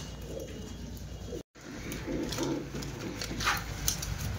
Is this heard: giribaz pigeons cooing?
yes